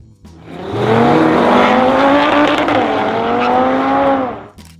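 A 1970 Pontiac GTO Judge Ram Air 4 with a 400 cubic inch V8 pulls hard and close, its engine note rising in one steady, loud stretch of revving without pause.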